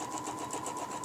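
A sewing machine stitches quilt ruler work in a quick, even run of needle strokes, close and fairly quiet, lasting about a second.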